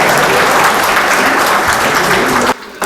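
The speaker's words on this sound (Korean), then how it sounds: "우리 박수 한번 더 보내주시죠" Audience applause fills a Korean forum hall at the National Assembly Members' Office Building, a dense, steady wash of many clapping hands that cuts off abruptly near the end.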